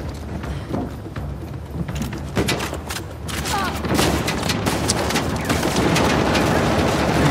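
Gunfire in the game Uncharted: The Lost Legacy on PS4 Pro, sustained bursts of rapid shots and impacts over a noisy combat background, loud and dense, building in intensity toward the end.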